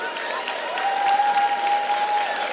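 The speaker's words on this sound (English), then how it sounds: "Let's give them all a round of applause." An arena crowd at a college basketball game applauds cheerleaders and band members at center court, a steady wash of clapping that swells slightly midway, with a faint tone running underneath.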